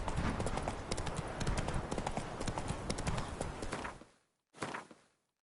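A horse's hooves clip-clop in a fast, steady rhythm in The Witcher 3 video game, loud and close for about four seconds, then stopping, followed by a short final burst of hoofbeats.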